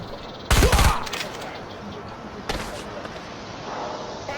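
Gunfire from the IGI 2 video game as enemies are shot: a loud, rapid burst near the start, then a second shorter burst, with quieter game ambience in between.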